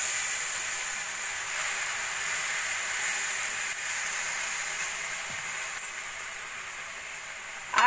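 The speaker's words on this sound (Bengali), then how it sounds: "এবার দিয়ে দেব অল্প করে দুধ।" A little milk poured into grated carrot and semolina frying in a pan gives a steady, close, broad sizzle and hiss that holds evenly throughout.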